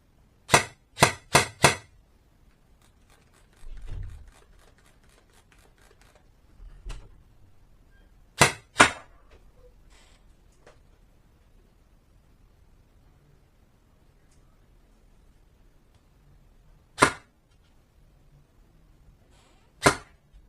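A VFC TDC airsoft gun fires BBs in a quick burst of three sharp cracks, then single shots spaced several seconds apart, loud and close, with faint low thumps between shots and no talking.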